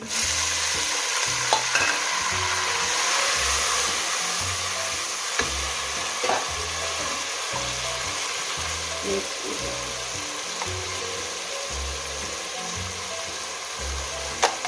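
Tomatoes cooking in a pan with browned onions and chana dal sizzle steadily while a spoon stirs in a repeated scraping rhythm, close and fairly loud, with no talking.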